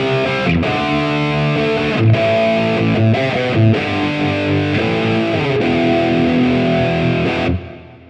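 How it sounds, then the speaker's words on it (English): Electric guitar through a Quad Cortex with a subtle dual-delay doubling effect plays a loud, driven riff with chugging rhythmic chords and brief gaps, ending in a quick fade. "I used my dual delay kind of doubling trick"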